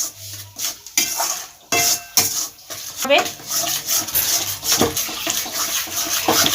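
Egg curry masala thickened with cashew paste is stirred and sauteed in a pan over low heat: repeated scraping and clinking strokes over a soft sizzle, with a voice talking intermittently throughout.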